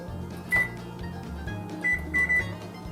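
An oven control panel is keyed for preheating, giving a few short electronic beeps (one, then a quick cluster of three) over a low steady hum in a quiet kitchen.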